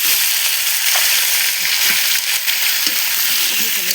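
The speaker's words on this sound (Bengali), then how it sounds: "আলু কটা আমার ভাজা হয়ে গেছে গা" Potatoes frying in oil in a hot pan give a steady, close, bright sizzle with small crackles throughout.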